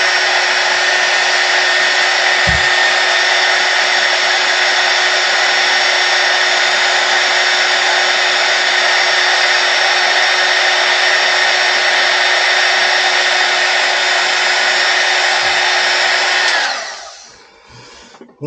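A heat gun blows a steady, loud whooshing hiss while shrinking heat shrink tubing over 12V wiring, running continuously alone for most of the time before cutting off and fading at the end.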